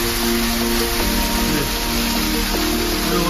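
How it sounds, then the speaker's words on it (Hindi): Hail pelting down steadily at a mountain temple in Uttarakhand during a cold storm, a dense continuous patter heard close and loud, with no talking. "ओले बहुत ज्यादा पड़ रहे हैं।"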